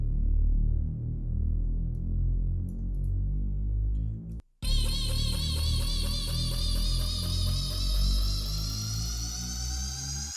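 A Serum synth riser in an electronic build-up: a bright, layered tone that sweeps steadily upward in pitch, starting after a brief dropout over a deep, sustained bass bed.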